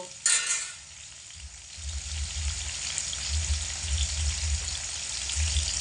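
Eggplant frying with salt and turmeric over high heat, a steady low sizzle and bubbling that follows a short clatter at the start, with no talking.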